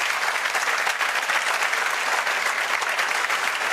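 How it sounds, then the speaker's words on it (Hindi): Steady, dense audience applause fills the room in honor of a coaching centre student's success, many hands clapping continuously at an even, fairly loud level without pause. "आज देखो इसके लिए तालियां बज रही हैं"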